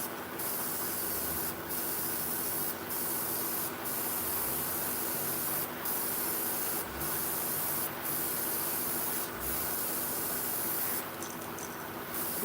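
Fishing lures are spray painted in a shop with a steady hiss of spray, broken by short pauses as the trigger is released, then resumed. The bursts repeat close by, with no talking.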